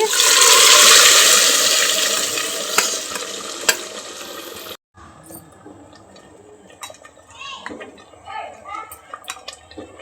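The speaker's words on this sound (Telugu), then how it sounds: "ఇందులోకి పప్పు టర్న్ చేస్తున్నానండి." Cooked dal poured into a pan for a village-style mango dish, heard as a loud rushing, splashing pour lasting about five seconds, then quieter clinks and stirring sounds.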